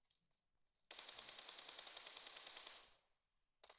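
Rapid automatic gunfire from a video game plays in one sustained burst of about two seconds, then stops and briefly starts again; loud, close and without talk.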